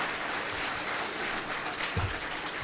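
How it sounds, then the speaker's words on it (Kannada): An audience at a pre-university college annual day claps steadily in a dense, even wash of applause, moderately loud and continuous throughout. "ಹಾಗಾಗಿ ಜೋರ ಚಪ್ಪಾಳೆಯನ್ನು ಕೊಟ್ಟು ಬಿಡಿ ಅಂತ"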